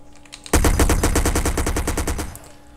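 Automatic gunfire from the SA-MP DayZ video game erupts in a rapid burst of roughly fifteen shots lasting about two seconds, loud and close with no talking.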